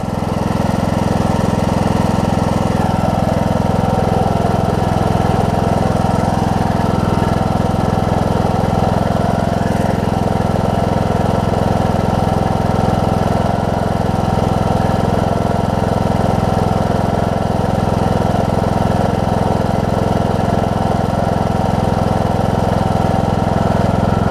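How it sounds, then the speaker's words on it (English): A John Deere D105 riding mower engine idles steadily and loudly up close, a constant low droning hum with vibration that never lets up, no talk. "That thing almost started right up."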